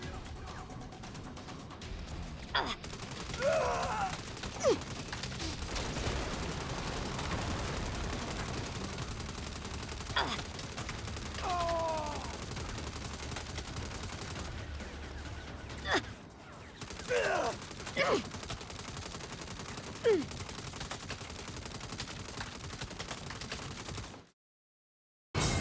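Sustained automatic gunfire in Saints Row (2022), long unbroken bursts rattling with no pause to reload, under occasional voice chatter and brief game effects, ending in sudden silence.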